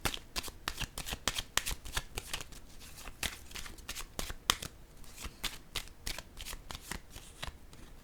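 Tarot cards are shuffled and riffled close up, a steady run of crisp flicking bursts and soft slaps with no voice over them.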